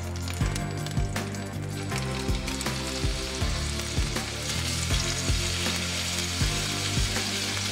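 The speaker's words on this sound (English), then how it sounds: "In a heated pan of olive oil and butter, add the meat." Beef and pork meat sizzles loudly in a heated pan of olive oil and butter, a dense continuous frying hiss with repeated dull clunks of stirring or scraping, close up and without talking.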